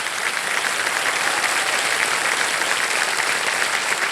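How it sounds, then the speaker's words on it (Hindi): A studio audience on the KBC quiz show gives loud, sustained applause, a dense continuous roar of many clapping hands with no voices over it. "एक बार जोरदार तालियां बज जाएं इनके लिए"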